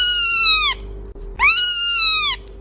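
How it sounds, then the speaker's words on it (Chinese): A one-week-old kitten gives two loud, close, drawn-out meows separated by a short pause, each call high and strongly harmonic with a slightly falling pitch. "出生一周的小猫叫"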